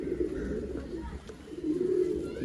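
Old-line pigeons coo in low, soft, repeated rolling calls close by, with faint background noise.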